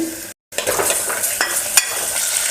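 Raw chicken, 250 grams and washed, goes into onions frying golden brown in a pan for a chicken and ridge gourd curry, a steady close sizzle with stirring scrapes and a brief silent gap.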